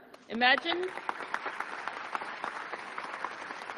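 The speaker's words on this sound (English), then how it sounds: "Let's also give another round of applause." A short cheer rings out, then a small crowd claps steadily at moderate volume, sustained to the end.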